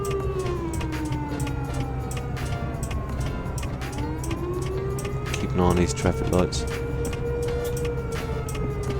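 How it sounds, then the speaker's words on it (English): An emergency vehicle siren in American Truck Simulator, heard from a Peterbilt 377 mod truck: a steady rising and falling wail under the engine drone, with someone talking over it. "Emergency vehicle."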